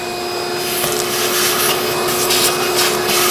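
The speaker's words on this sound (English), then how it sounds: "I'm just going to vacuum it." A vacuum cleaner runs continuously in the engine bay of a 1995-2004 Toyota Tacoma, clearing debris around the ignition coils with a close, loud rushing drone and scraping, rubbing suction noise.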